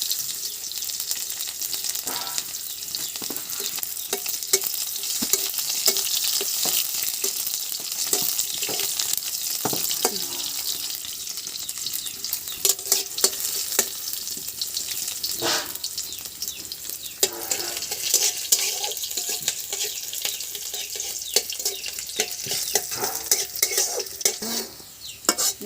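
Onions frying in a pan while a tribal woman cooks at home, a continuous close sizzle with frequent stirring scrapes and clinks of utensil against pan throughout.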